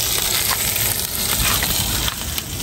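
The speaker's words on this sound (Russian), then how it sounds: "Жарим оленя сбитого." Roadkill deer meat frying in a pan during a truck driver's roadside stop, a steady loud sizzle with occasional scrapes and clicks of stirring, no talk.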